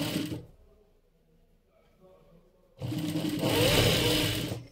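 A serger overlock machine stitches fabric in a short fast burst, falls quiet for a couple of seconds, then starts again and runs in a longer, louder whirring stretch.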